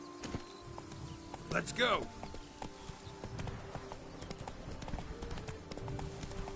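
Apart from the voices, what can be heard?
hooves of Roach the horse in Witcher 3 video game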